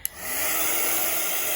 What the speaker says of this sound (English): you need a heat gun.